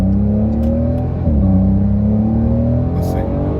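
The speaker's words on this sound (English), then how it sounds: "I'm going to move it over to sport mode, and I'm going to put it in manual, and we're just going to drive it for a few seconds." A Porsche 992 Carrera S in sport mode with manual shifting runs along steadily, its engine a loud close drone whose pitch climbs, dips briefly at a shift near the middle, then rises again.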